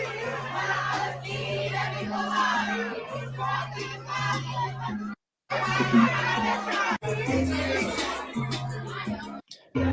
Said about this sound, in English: That's the ski week crowd